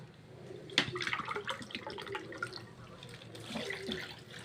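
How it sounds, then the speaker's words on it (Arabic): Water poured into a pan over a cup of sugar to make syrup for a large tray of basbousa, a steady close splashing stream with a sharp initial splash, no talking over it. "كوبايه ونص ميه."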